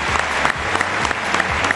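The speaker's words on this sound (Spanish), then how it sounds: "Un aplauso, por favor, para ellas." An audience at a coffee queen pageant applauds the contestants, dense steady clapping filling the hall.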